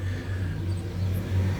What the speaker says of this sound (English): I've got the garbage trucks coming through, and they're dumping bottles and stuff like that.